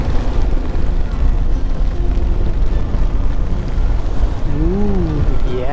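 Steady rain with buffeting wind roar during a motorcycle ride on the road from Tenkasi to Trivandrum, a dense continuous wash that stays loud throughout, with a brief wavering tone rising near the end.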